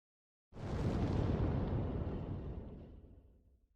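Vertical-launch missiles fire a saturation salvo from a warship in an animated naval battle: one sudden, loud roaring blast that swells and then slowly rumbles away over about three seconds.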